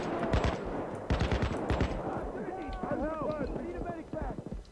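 Rapid AK rifle fire rattles in bursts in the video game PAYDAY 2, dense at the start and then thinning out beneath a voice talking, with other game sounds in the mix.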